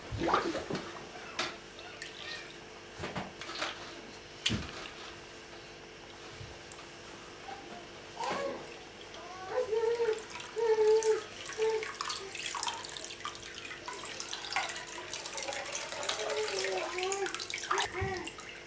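Whey trickles and drips from pressed farmer's cheese curds, a faint close-up watery dribbling with soft squishing and occasional handling knocks.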